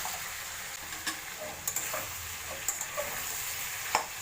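Fried bitter gourd is stirred in a pan for a vegetarian rice and bitter gourd dish: a soft, steady sizzle broken by a few sparse spoon scrapes and taps against the pan.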